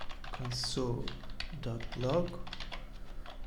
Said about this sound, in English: just come here, type in console.log